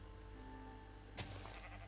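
A single short sheep bleat in a video game rings out once, faint and alone over a steady low background hum.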